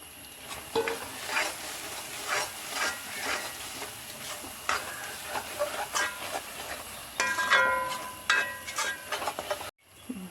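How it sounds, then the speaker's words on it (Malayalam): Curry leaves sautéed in a pan for chicken curry, heard as a steady soft sizzle with repeated close stirring scrapes and light metallic knocks throughout, no speech. "കുറച്ച് കറിവേപ്പില ഇട്ട് കൊടുക്കാം നന്നായി വഴറ്റി കൊടുക്കാം"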